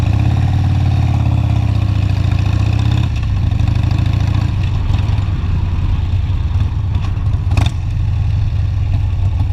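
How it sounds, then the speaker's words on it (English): A Harley motorcycle engine throbbing loud and close, a deep steady rumble that shifts pitch midway as it revs through a downshift, with a brief clatter near the end. "Nice downshift, a little revy boy."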